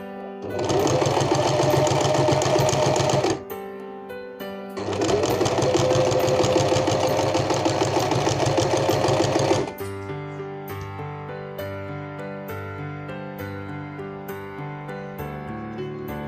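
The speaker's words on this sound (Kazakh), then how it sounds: "Міне осылай етегін тігіп шығасыздар." Sewing machine stitching the hem of a curtain, two long loud runs of rapid steady whirring broken by a brief pause, then stopping, with quieter tonal background afterward.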